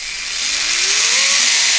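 Brushless motor in a Traxxas TRX-4 RC crawler spinning up to top speed, a loud rising electric whine that climbs steadily in pitch over a steady broadband hiss and holds near its peak.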